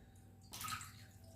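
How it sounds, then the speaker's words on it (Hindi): Water with a little leftover ghee is poured into mawa gujiya dough, one short splashing pour that starts suddenly after a quiet moment and then settles into a fainter trickle. "अब हम थोड़ा थोड़ा पानी डालकर इसको गूंदेंगे।"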